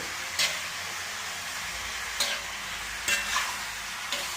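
Chicken frying with orange pieces in a pan, a continuous close sizzle broken by four brief louder bursts of stirring or sputtering spread across the span.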